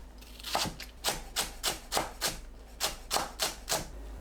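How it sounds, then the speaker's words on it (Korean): Green onion chopped with a knife on a board while making a Korean mustard greens side dish: a steady series of about a dozen crisp, close knife taps at a regular rhythm over quiet background, no voices. "파를 썰어줍니다."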